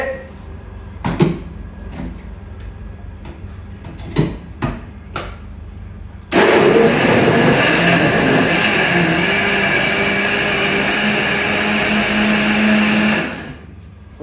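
After a few knocks and clatters, an electric mixer grinder whirs loudly and steadily for several seconds, then stops abruptly.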